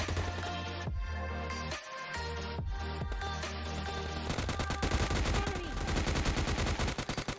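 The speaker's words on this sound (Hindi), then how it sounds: "मेरे ऊपर कोई बंदा फायर करता है" Rapid bursts of automatic gunfire from a PUBG Lite squad battle ring out loud and close, with dense repeated shots and a sustained volley toward the end.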